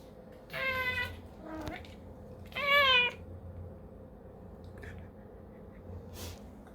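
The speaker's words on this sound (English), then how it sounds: "The cat. There's the beast." A cat meows twice in a quiet room, two short, clear calls a couple of seconds apart over a low background hum, with small soft noises around them.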